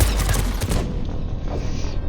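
Turret gunfire in the sci-fi shooter Mass Effect 3, a quick rattle of shots and a booming impact that cut off sharply, leaving a fading mechanical hum.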